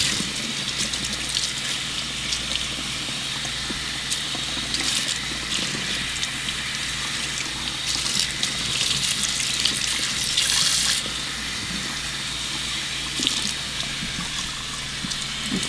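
A synthetic wig is rinsed under a running tap, giving a steady, close rush of flowing water that continues evenly for the whole stretch, with brief brighter splashes and no voices.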